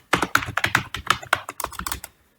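Rapid typing on a computer keyboard, a close, crisp run of key clicks in an uneven rhythm that stops after about two seconds, with no voices.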